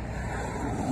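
Road traffic on a motorcycle trip gives a loud, steady low rumble of passing vehicles across one brief second, with no voices.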